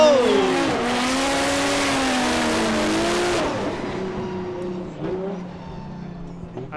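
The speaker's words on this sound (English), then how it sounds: "Takahashi just throttling through, taking out outer zone 2 to outer zone 3" A Formula Drift Japan car at Okayama screams at high revs while sliding through the course, engine wailing and shifting with tire squeal, loud and close at first, then fading as it pulls away, with a commentator talking over it.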